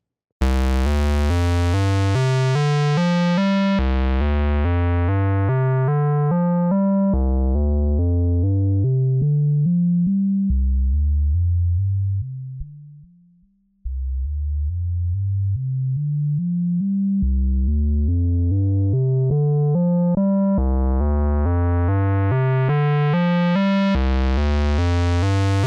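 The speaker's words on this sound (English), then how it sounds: "let's go ahead and listen to the Moog really fast with the low-pass filter incorporated" A Moog synthesizer played through a low-pass filter, loud repeating notes whose bright tones sweep slowly down to a dark, muffled near-silence and then open back up again over about 25 seconds.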